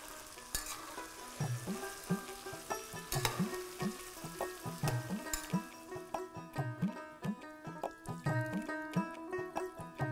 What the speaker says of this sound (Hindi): चिकन को आपने अच्छे से तला है, अगर अच्छे से फ्राई किया है तो भाई साहब आधी प्रॉब्लम सॉल्व।